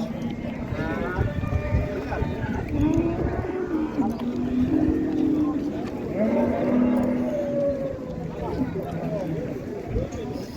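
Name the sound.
ox at a livestock market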